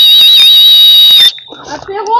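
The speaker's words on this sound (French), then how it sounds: "on a aussi également un sifflet de secours" The emergency whistle on the shoulder strap of a Skysper Tengger 20 backpack gives one loud, piercing, steady blast lasting just over a second, then cuts off and a person starts talking.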